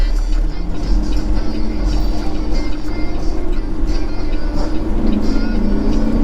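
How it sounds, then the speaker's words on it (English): A 1989 Peterbilt 378 tractor with a Cat 3406 diesel and a single straight pipe, heard from inside as a loud, continuous deep rumble with steady low drone and road noise throughout. "That's a 1989 Peterbilt 378 tractor with the Cat 3406 in it"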